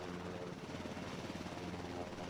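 KAI Surion helicopter on a flight test, its steady whirring rotor and turbine roar filling the air at an even, unbroken level throughout.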